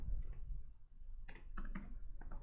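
A few scattered keypresses on a computer keyboard while someone fills in a form, faint and clicky clusters spaced irregularly against a quiet room.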